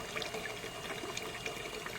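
Water from a hand-pump well trickles weakly and steadily during the hot dry season, a thin continuous wash of running water with no talking.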